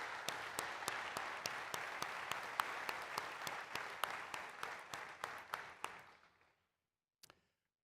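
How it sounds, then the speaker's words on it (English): A crowd at a Memorial Day ceremony at the National WWII Museum applauds supporters with steady, dense clapping that carries for about six seconds, then fades out, followed by a brief last clap or two. "let's give a round of applause to those who help us every day"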